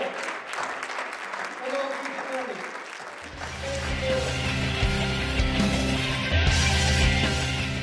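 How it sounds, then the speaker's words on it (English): A church congregation claps in praise while voices call out over it, and partway through, sustained instrumental music rises and joins the clapping, growing fuller toward the end. "give the Lord a great big hand clap of praise to God"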